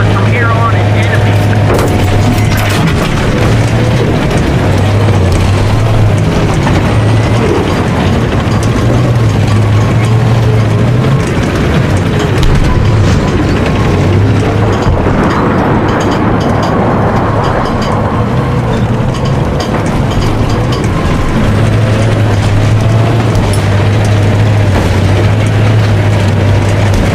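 Tanks rolling in Battlefield 3, a loud, continuous mechanical rumble with clanking treads and heavy engine drone filling the scene, booming and close, with game radio chatter mixed in.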